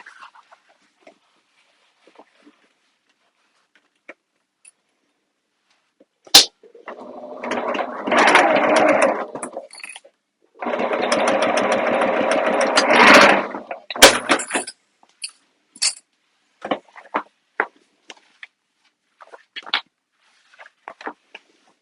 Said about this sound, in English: I'm just going to go over to the machine and quickly baste this in place.